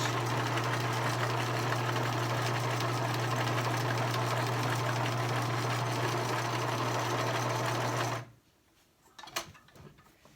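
A sewing machine runs a short-length zigzag stitch down the edge of a fabric 3D face mask, a steady loud mechanical whir with a strong hum for about eight seconds before stopping abruptly, then a few faint clicks.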